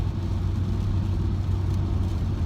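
A Kia Stinger engine idles with a low, steady, muted exhaust rumble through a GT-9 exhaust with valves closed, heard from inside the car, even and subdued throughout.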